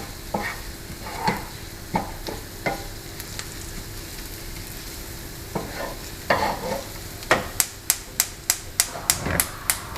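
Spices for a tarka for dal stirred in a pan over low heat, giving soft scraping sweeps and a low sizzle, then a run of sharp regular taps near the end.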